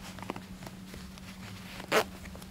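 A zipper on a vintage N-1 deck jacket gives one short, close rasp, standing alone against a quiet room hum.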